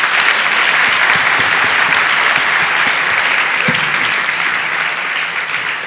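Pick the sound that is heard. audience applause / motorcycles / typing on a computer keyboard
audience applause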